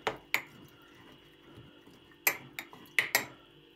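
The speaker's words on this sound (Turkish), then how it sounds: "Karıştırıyoruz." A mixture of olive leaves and homemade apple cider vinegar is stirred in a container, giving a few sharp, bright clinks of a utensil striking the side at irregular intervals, close and clear over a quiet background.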